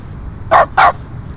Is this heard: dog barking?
yes